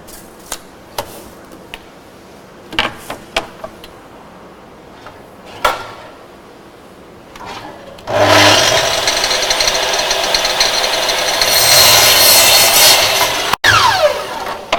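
A drop saw cuts a timber lid and base for a box. Scattered clicks and knocks of handling come first, then a loud, sustained cutting whine runs for about five seconds and stops abruptly.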